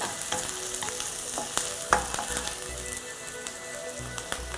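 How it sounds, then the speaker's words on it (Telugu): Drumstick chicken curry frying lightly in a pan until browned, a steady close sizzle with occasional stirring clicks and scrapes. "ఇలా కొంచెం బ్రౌన్ కలర్ వచ్చేదాకా మనం లైట్గా వేపుకోవాలి"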